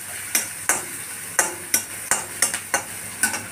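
A spoon scrapes and knocks against a pan while turmeric is stirred into amaranth greens, in repeated strokes of about two per second over a soft sizzling hiss, with no talking.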